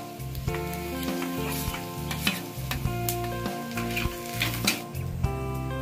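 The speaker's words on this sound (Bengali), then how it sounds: "এবার এতে দিয়ে দেবো আমি হলুদ গুঁড়ো লঙ্কা গুঁড়ো, একটু ভালো করে ভেজে নিয়েছি আমি।" Turmeric and chili powder sizzling in hot oil in a pan with fried golden-brown ingredients, a steady close crackle broken by repeated stirring scrapes, loud and continuous with no talking.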